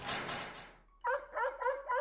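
Dogs in a Lego animation bark in a quick run of sharp, close yips after a burst of noisy clatter, several barks in a row of similar loudness.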